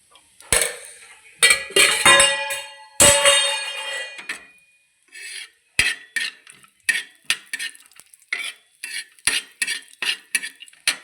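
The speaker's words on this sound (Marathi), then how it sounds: "हे तूप टाकून थोडंसं भाजून घेऊ" Vermicelli being roasted in ghee for kheer, heard as a series of sharp metallic scrapes and clinks from a spoon stirring in a pan, loud and close, with only a faint sizzle and no talking.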